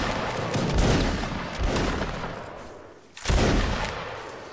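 Musket volleys crackle in Mount and Blade Napoleonic as ragged waves of many overlapping shots, one burst rolling into the next, followed by a brief lull and then another loud, dense volley.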